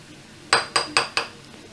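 Four quick, bright clinks of a spoon against a bowl while fromage blanc is scooped in, evenly spaced and close, with no talking.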